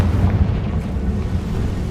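A Confringo blasting spell detonates in Hogwarts Legacy, a short dense rumbling burst of fiery explosion energy that fills the moment loudly and rolls on without a clear decay.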